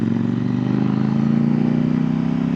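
A CFMOTO 800NK motorcycle engine, not yet fully warmed up, drones loudly and steadily while riding, holding a constant low throbbing note with no pauses.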